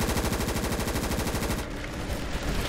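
Close, loud automatic weapon fire from a modded Ravenfield match: a rapid, steady stream of shots in one sustained burst with barely a pause.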